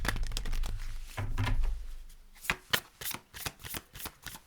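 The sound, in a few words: oracle cards being shuffled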